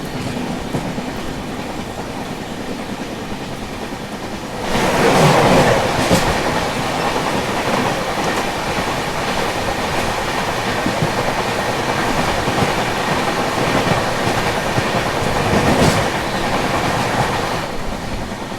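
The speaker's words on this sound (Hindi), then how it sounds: "ये आ रही है पवन एक्सप्रेस" The Pawan Express rolls past on the rails as a loud, continuous rumble that swells sharply and holds steady, with clickety-clack wheel beats and a faint squeal. No one speaks.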